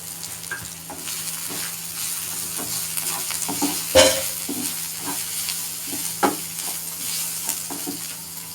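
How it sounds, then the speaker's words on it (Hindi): Dry masala spices, browned garlic-ginger paste, green chillies and tomato sizzling steadily in a pan for stuffed tinde, with intermittent stirring scrapes and a few sharper clanks from the spoon. "जब तक टिंडे फ्राई हो रहे हैं तो मसाला भी हमारा तैयार हो जाएगा।"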